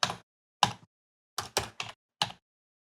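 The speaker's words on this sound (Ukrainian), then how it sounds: "І тепер пишемо щось в Search." Keys on a computer keyboard typed into a search box, heard as six sparse, separate clicks and taps spread over a few seconds, fairly close and alone with no talk.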